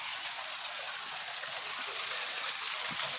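Steady broadband rush of water gushing from a pump driven by an INVT variable frequency drive, with the flow running heavily and continuously at high output, close and loud throughout.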